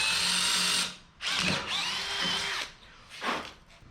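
A power drill whines in several short bursts drilling metal on a 1977 Datsun 620, pausing between them, close and loud, with a grinding bite as it cuts.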